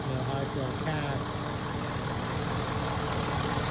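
A swapped TBSS engine in a C3 Corvette, fitted with upgraded exhaust manifolds, idles with a loud, steady, continuous rumble close by.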